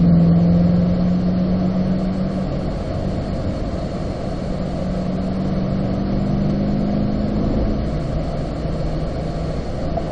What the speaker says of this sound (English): Accelerate up to fourth gear.